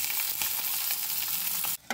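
Green chillies cut into pieces sizzling in hot oil in a pan for a tomato chutney, a close, steady crackling fry with sharp pops and stirring scrapes, dropping away briefly near the end.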